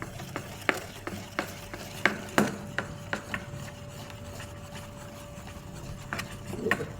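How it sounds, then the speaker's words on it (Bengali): Batter being whisked with a little water in a bowl, with intermittent sharp utensil clicks and scraping strokes, close and moderately quiet, a steady faint hum running underneath. "ফেটিয়ে নেব"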